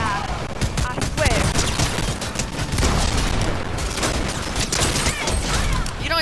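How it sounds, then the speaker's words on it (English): Rapid gunfire from a player's weapon shooting at a turret in Fortnite, loud sustained bursts filling the clip with dense cracks and mechanical clatter, with people talking alongside. "I'm gonna shoot it with the gun I have."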